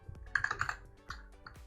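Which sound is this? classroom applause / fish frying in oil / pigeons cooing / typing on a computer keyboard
typing on a computer keyboard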